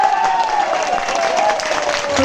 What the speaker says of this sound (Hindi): जोर से ताली बजानी होती है, क्योंकि तालियों का संबंध दिमाग से है।